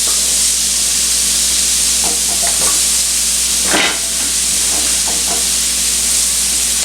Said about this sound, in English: fry up your onions for a few moments